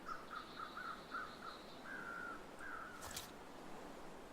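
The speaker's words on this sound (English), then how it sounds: "I heard birds." Faint, repeated video-game bird calls (The Long Dark) sound in short bursts over a steady background hiss, followed by one longer drawn-out call.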